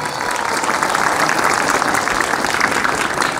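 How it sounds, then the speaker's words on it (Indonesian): Applause from an audience at a religious school gathering marking its 32nd year, a dense, even patter of many hands clapping close and loud, with no talk over it. "mari kita berikan semangat dan tepuk tangan untuk Mubtadi'in ini"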